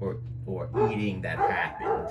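Dogs bark and yip in short, excited bursts indoors, overlapping with a person talking nearby.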